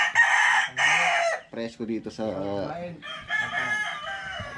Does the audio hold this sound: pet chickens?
yes